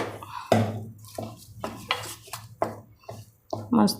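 Garlic-flavoured khichu rice-flour dough being stirred in a pan and scooped onto a metal plate, heard as a series of close, sharp scrapes and clanks from a spoon against metal, in irregular bursts.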